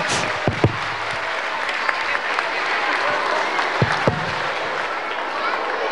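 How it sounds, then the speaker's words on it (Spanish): A crowd at a kindergarten handover event in Sacaba, Cochabamba applauds the vice president of Bolivia, with a steady wash of clapping and a few sharper nearby claps. "Lo recibimos con fuertes aplausos."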